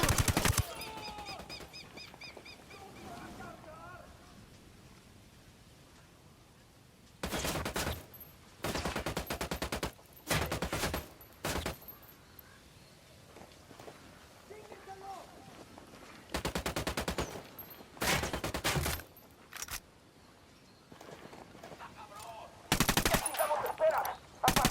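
Loud bursts of automatic rifle fire in Tom Clancy's Ghost Recon Wildlands, several sustained volleys of a second or two separated by quieter stretches, with faint birdsong and ambient outdoor sounds between the bursts.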